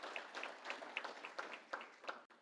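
Audience applauding at a Manatee Tiger Bay Club political gathering, a steady patter of many hands clapping with a few louder individual claps standing out, moderately close and continuous.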